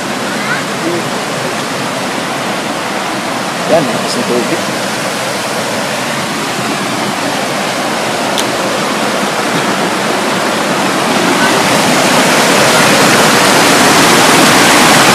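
A clear rural stream rushes continuously, a steady broadband wash of flowing water that swells slightly louder toward the end, close and dominant.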